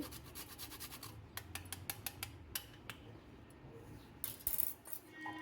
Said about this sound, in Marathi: याच्यामध्ये थोडं जायफळ टाकते मी किसून पूर्णामध्ये